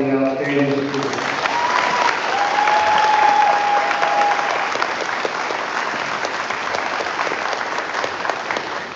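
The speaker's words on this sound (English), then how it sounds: "This is a round of applause for the outstanding students." An audience at a school 8th grade promotion ceremony breaks into sustained, dense applause that carries steadily from about one second to the end, with a tone briefly sounding over it and a voice heard at the very start.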